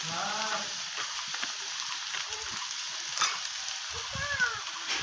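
Banana flower curry sizzles softly in a pan with chili and cumin powder, a quiet, continuous frying hiss broken by a few brief stirring scrapes.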